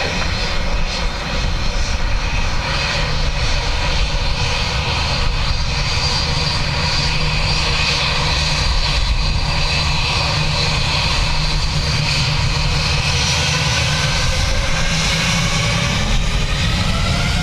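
Airliner landing on runway 28 left at Dublin Airport on a blustery day, its engines a loud, steady roar that fills the whole stretch without letup.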